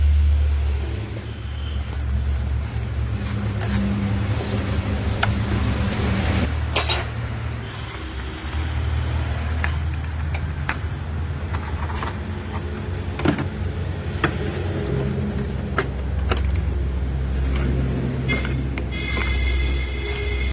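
A Maruti Suzuki Swift Dzire engine runs at idle after an oil change, giving a steady low hum. Scattered clicks and metallic clinks sound close by over the hum.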